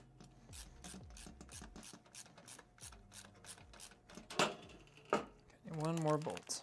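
A ratchet tightens a bolt during a gaming PC build with an RTX 5090 card, a close run of rapid clicking strokes and rubbing, followed by a couple of louder knocks and a person talking briefly at the end.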